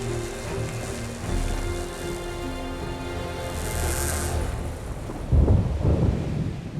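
A thunderstorm draws near over a Bolivian cable crossing, with a steady rain-and-wind wash throughout and a deep rumble of thunder rolling in loudly near the end.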